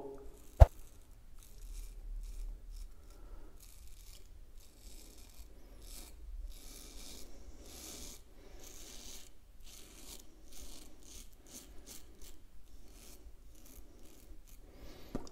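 Steady scratchy rasping of a razor dragging across stubble on an obliquely angled second pass, repeated strokes in a continuous rhythm, close and fairly quiet, with one sharp click near the start.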